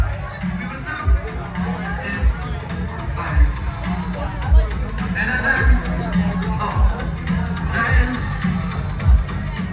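Crowd chatter fills a lounge on a rocking 1980s-themed cruise ship, a steady babble of many voices with periodic low thumps underneath, close and fairly loud.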